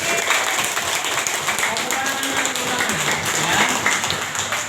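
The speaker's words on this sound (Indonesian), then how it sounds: "Tepuk tangan." Applause and clapping from a group at a virtual graduation announcement, a dense continuous patter filling the whole stretch, steady and fairly loud, with a voice or two mixed in.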